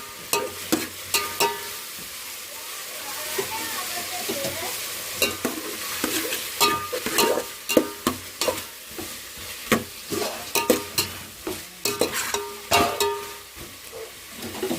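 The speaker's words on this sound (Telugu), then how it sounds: "పసుపు వేసుకొని దాన్ని బాగా కలబెట్టి" Turmeric is stirred into a frying pan over a soft sizzle, with a spoon knocking and scraping against the pan in irregular bursts, sharp and close.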